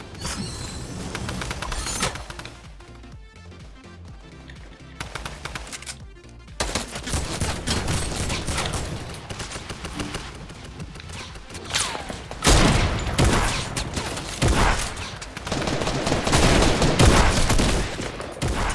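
Gunfire in the Fortnite battle game, including a combat shotgun, with dense bursts of rapid shots and booming blasts over game noise and music, loud and sustained, briefly thinning out midway before growing heavier again.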